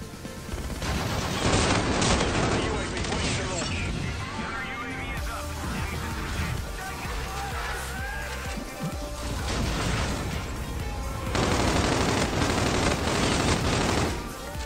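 Gunfire in the Call of Duty: Infinite Warfare video game, dense loud bursts of automatic weapons and crashing impacts that come in waves, with a quieter stretch between the heaviest volleys.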